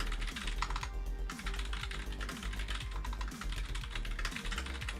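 Notes being typed on a computer keyboard, a steady close stream of light clicking keystrokes with brief pauses and no talking.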